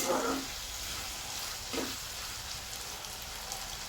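Potatoes and tomatoes for a curry fry quietly in a pan with a soft, continuous sizzle. Brief scraping stirs come near the start and again midway, with no speech.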